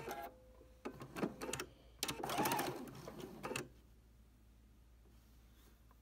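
A sewing machine stitches fabric strips for a log cabin courthouse steps quilt block, running in one short burst of about a second and a half, framed by a few scattered clicks and handling noises, then quiet.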